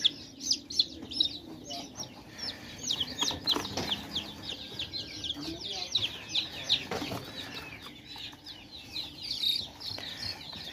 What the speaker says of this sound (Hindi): ये 5 चिक्स हैं जी